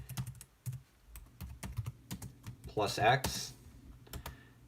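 Typing a terminal command on a computer keyboard, with quick uneven close key clicks and taps and a short mutter of speech partway through.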